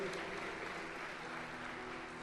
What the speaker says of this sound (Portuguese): Aplauda a palavra de Deus e pode sentar.